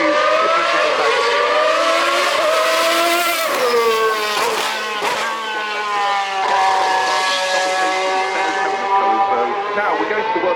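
A race car at the Goodwood Festival of Speed, fitted with a bigger rear wing and four exhaust pipes, roars loudly past with a rising, falling engine note that holds steady and sustained throughout the run.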